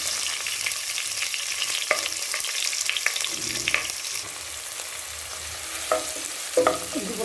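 Onion frying in hot oil alongside spices, garlic and green chilli for a Kumbakonam kadappa curry, a steady close sizzle broken by scraping stirs of a spoon against the pan.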